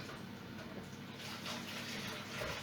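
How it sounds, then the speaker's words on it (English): Tap water runs steadily into a bowl being rinsed in a kitchen sink, a close, continuous splashing gush with no talk. "Rinse the bowl because I'm going to use it for seasoning."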